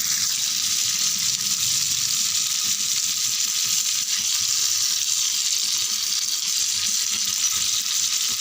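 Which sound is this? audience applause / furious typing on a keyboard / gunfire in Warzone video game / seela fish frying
seela fish frying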